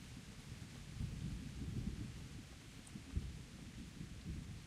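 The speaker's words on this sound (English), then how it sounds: "Thunder sounds good, though." Low rolling thunder rumbles from a video game, soft and distant, swelling and fading in a few deep murmurs with a faint rain-like hiss and no talking.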